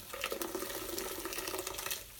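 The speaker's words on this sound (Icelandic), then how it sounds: "Vinda þetta dásamlega græna vatn hérna úr hratinu" Green juice wrung by hand from pulp through a strainer bag into a bowl, a continuous close trickle and splash of liquid with no talk.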